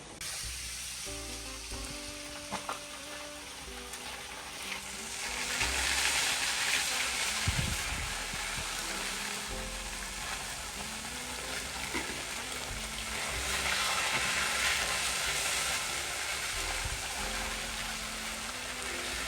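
Steady sizzling of fish frying in a hot pan, a continuous crackling hiss that swells louder midway, with a few soft clinks and no talking.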